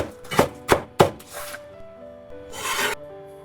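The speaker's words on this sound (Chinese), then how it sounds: "幾根小蔥切成小蔥花備用" A knife chopping scallions into small pieces on a cutting board: three sharp, evenly spaced thuds, then softer scraping and a longer rasping sweep across the wood, close and clear.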